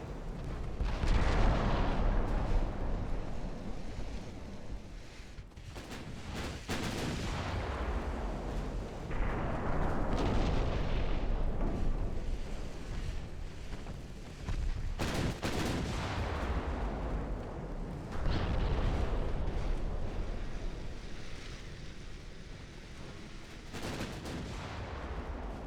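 Naval guns firing in a dreadnought-era warship battle game, with heavy booming salvos that roll out into long rumbling decays, repeating every few seconds over a dense, loud background of distant gunfire.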